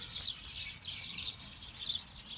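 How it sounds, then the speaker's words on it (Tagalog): Birds chirp and tweet repeatedly in quick, bright bursts, several calls overlapping in an open outdoor space in Kaifeng Park, China, with no talking. "Gusto ko lang yung parinig yung ibon."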